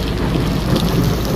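A torrential downpour hisses and roars without a break, with deep rumbling in the low end that suggests distant thunder. The storm sounds close and fairly loud, and nobody speaks.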